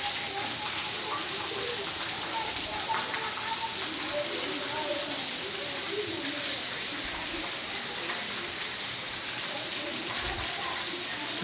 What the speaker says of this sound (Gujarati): સારો એવો વરસાદ પડી રહ્યો છે. પવનની ગતિ ધીમી છે, પણ વરસાદની ઝડપ સારી છે.